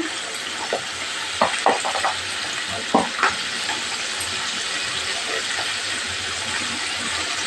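Spice paste frying in oil in a pan for an achar dalna, a continuous hiss of sizzling with scattered scraping stir strokes in the middle, close and fairly loud, no talk.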